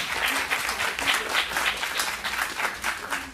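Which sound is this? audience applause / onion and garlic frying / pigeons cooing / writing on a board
audience applause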